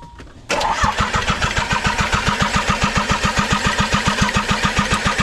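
A Nissan 300ZX engine cranks on its first test start after a rebuild: a sharp onset, then a fast, even chugging of the starter turning the engine over, close and loud, without catching.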